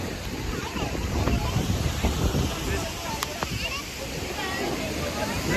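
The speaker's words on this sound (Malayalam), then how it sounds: "സത്യമായി മഴ നല്ല മഴ കേട്ടോ." Heavy rain pours at Athirappilly waterfalls, a dense, close and unbroken hiss of falling water that fills the whole scene while a person talks over it.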